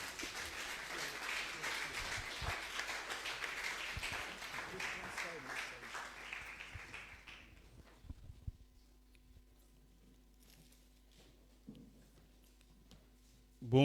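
A church congregation applauds to acclaim the Lord, with dense clapping for about seven seconds that fades into a quiet room with a few scattered sounds and a sudden loud bump at the end.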